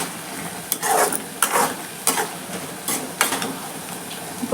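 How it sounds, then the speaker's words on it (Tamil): Onions and prawns with masala sautéing in a pan for prawn rice, with several loud scraping spatula strokes over a low background sizzle, in an irregular rhythm close by. "இன்னும் நல்லா வதங்கணும்."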